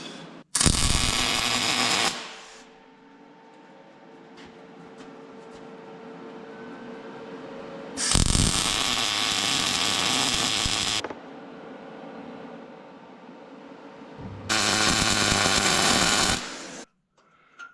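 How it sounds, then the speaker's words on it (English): A Harbor Freight stick welder lays 3/16 rod onto a truck in three separate loud crackling bursts of about two seconds each, with a low hum between them. "Okay, our Harbor Freight welder, 3/16."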